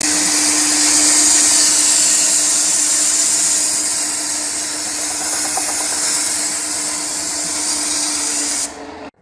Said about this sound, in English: I'm going to get this spinning and I'm going to blow off the area of the lead screw